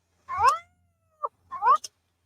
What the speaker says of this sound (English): Because if cat is purring, cat is a happy, happy, happy, happy girl.